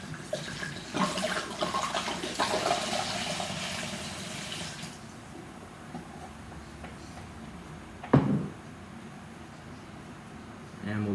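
Red wine is poured over a block of cheddar cheese to soak it, giving a steady splashing, gurgling stream for several seconds that stops abruptly, followed by quieter handling and a short clunk.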